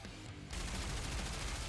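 Rapid gunfire from Goddess of Victory: NIKKE erupts after a brief quieter moment, becoming a dense, continuous burst of shots that fills the rest of the short stretch at a fairly faint level.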